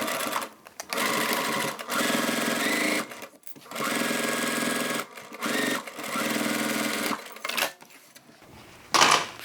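A sewing machine stitching fabric for a crossbody bag, running in several loud close bursts of steady whirring separated by short pauses and clicks as the fabric is repositioned.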